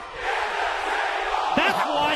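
Wrestling crowd at TNA Slammiversary 2006 in the Impact Zone yelling together in unison, a loud sustained roar of massed voices.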